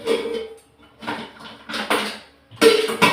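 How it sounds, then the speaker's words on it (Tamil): A kadai (wok) set down onto a home kitchen stove, giving several close metallic clanks and scrapes of cookware in bursts, with a louder clatter near the end. "இப்போ நான் வந்து ஒரு கடாய் அடுப்பில் வச்சுட்டு"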